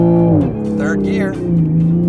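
A Toyota Supra accelerates hard on a race track. The loud engine note sags briefly, then climbs steadily as the car pulls through a gear, with a voice heard briefly inside the car.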